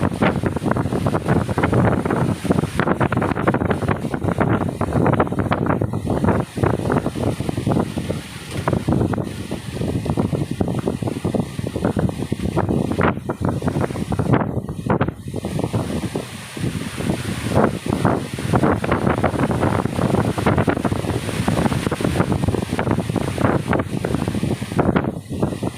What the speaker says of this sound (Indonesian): Angin campur dan gerimis-gerimis cilik-cilik.